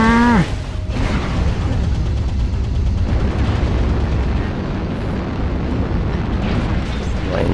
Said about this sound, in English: that mech just exploded right in front of me